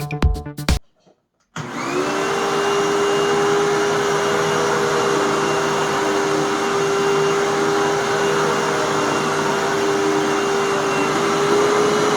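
After a few brief clunks and a moment of silence, a Hoover Tempo Widepath upright vacuum cleaner starts up on a sand test and runs with a loud, steady whine close by.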